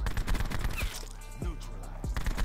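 Echohawk dual bore rifle fire in a Call of Duty match, rapid shots mixed with other in-game combat sounds and clatter, steady and fairly loud throughout the short stretch.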